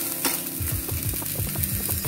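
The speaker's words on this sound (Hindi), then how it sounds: "फिर उसमें डालेंगे हम बारीक कटे हुए प्याज जिसको गोल्डन ब्राउन होने तक हम सौते करेंगे" Finely chopped onions and French beans sauté in a pan for veg lollipops, a steady close sizzle with repeated stirring scrapes throughout.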